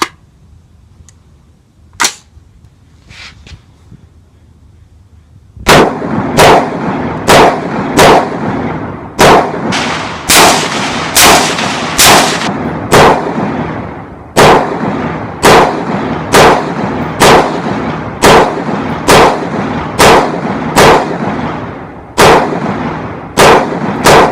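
A POF Renegade Plus rifle fed from a polymer Ultimag magazine fires loud, sharp shots, a few sparse ones at first, then a steady rapid string of about two dozen rounds.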